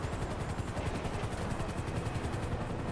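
A medical helicopter in the video game GTA 5 gives off a loud, continuous, fast rotor chop that stays steady and close for the whole stretch, with no voices.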